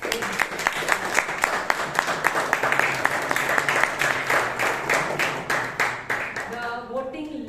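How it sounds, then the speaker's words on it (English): A room of Toastmasters meeting attendees applauds with distinct, fairly close hand claps in a quick, uneven rhythm that carries on for several seconds, then fades out as a voice begins speaking at the very end. "let them give a big round of applause"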